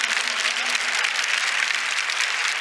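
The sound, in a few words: audience applause in church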